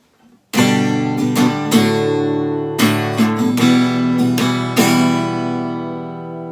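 Strummed acoustic guitar chords ring out loud and close, with several bright strokes in a loose rhythm and no voices.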